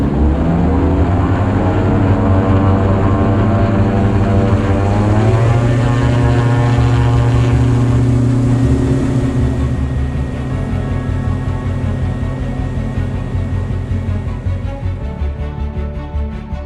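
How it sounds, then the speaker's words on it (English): A Diamond light aircraft on its takeoff roll from runway 25 left, with a loud, steady propeller and engine drone that rises in pitch as power builds. No voices are heard. "on the 25 left you are cleared for takeoff"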